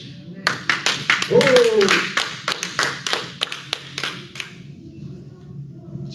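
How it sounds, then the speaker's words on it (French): Handclaps from a congregation at an evangelistic church service, a run of sharp separate claps in loose rhythm, with a voice crying out among them before they fade. "Applaudissez pour la gloire de Jésus."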